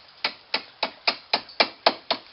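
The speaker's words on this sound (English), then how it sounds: "I'm just going to gently tap with this nice little hammer." A small hammer gently taps the metal edge of a part held over a rounded piece of wood while working on a Santana 20 sailboat cabin, giving eight crisp, evenly spaced taps close up with no talk.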